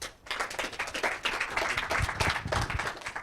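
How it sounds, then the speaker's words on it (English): Audience applause and clapping at a Sunnyvale incubator fireside chat, a dense crowd of hands beginning abruptly and sustained loudly throughout without talk. "Applause."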